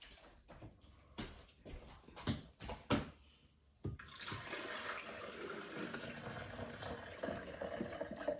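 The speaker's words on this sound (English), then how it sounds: "Fill your cafe to the water level you desire and pour it into the coffee pot." Water pours steadily into a coffee pot from a coffee maker's carafe, starting after a few scattered knocks and handling clatters and then running as a continuous close splashing stream to the end.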